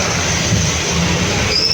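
A metro train rushes past close by with a steady loud roar of wheels on rail and a thin high squeal rising toward the end.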